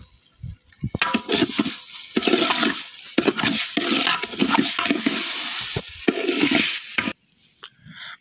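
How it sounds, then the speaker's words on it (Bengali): Rice being fried in oil with biryani masala and salt for pulao, a steady close scraping stir and sizzle running for several seconds before cutting to quieter kitchen noise. "এবার আমরা চালগুলো কিছুক্ষণ ভেজে নিব।"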